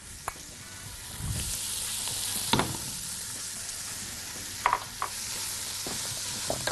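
Two chopped onions sizzle in a pan with the cooking juices left from chicken kofta, a steady frying hiss broken by a few sharp stirring scrapes and clinks.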